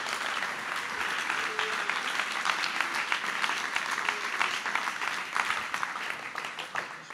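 Sustained audience applause fills a hall at a men's Christian celebration event as a guest is introduced, dense clapping holding steady throughout without any talk over it.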